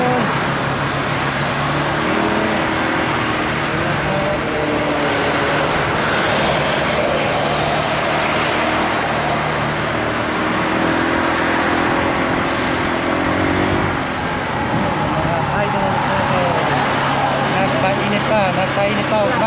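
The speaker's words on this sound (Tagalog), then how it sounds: "Nagpainit pa ang makina." An engine warms up with a loud, steady, close drone that holds for the whole stretch with only slight swells in pitch and level.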